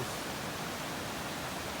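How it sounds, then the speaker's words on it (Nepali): A river stream flowing at Sundarijal: a steady, even broadband rush of water, constant and unbroken, moderately quiet, with no voices. "भित्र मजा खोला छ"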